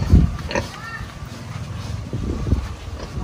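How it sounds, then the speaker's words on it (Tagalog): A pig on a rural farm gives a few low, close grunts with wind buffeting the microphone and faint voices around. "Yan yung baboy natin."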